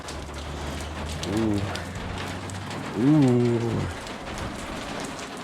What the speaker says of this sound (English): It's a rainy one out here today.